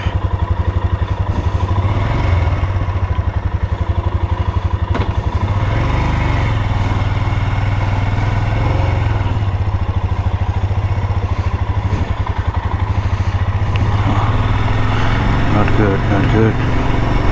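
A Royal Enfield adventure motorcycle's engine runs steadily and loudly up close throughout, a low continuous throb with some clatter, on a long-distance ride through Australia from Adelaide toward Port Augusta.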